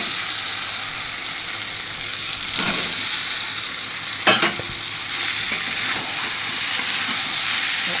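Potatoes and soybean chunks fry and are stirred in hot oil for a Bengali soybean-potato curry, giving a steady loud sizzle with a few sharp clatters of the spatula against the pan.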